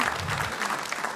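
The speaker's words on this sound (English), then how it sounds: "Yes, you can clap for that" Brief applause from the audience at a spring fundraiser, a steady patter of clapping from many hands that runs for a moment, with a low rumble underneath at the start.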